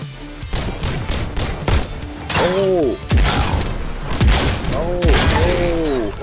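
Shotgun and pistol gunfire in the VR robot shooter Robot Recall, sharp repeated blasts with mechanical clanks and ringing robotic tones, a player speaking over parts of it.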